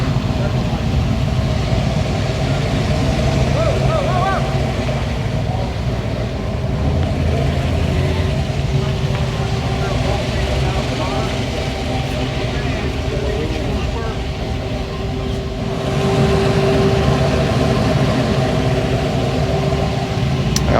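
A Chevrolet Corvette sits at a classic car show in Big Bear Lake Village, its engine idling as a steady, unbroken low rumble for the whole stretch, loud and near, with voices murmuring in the background.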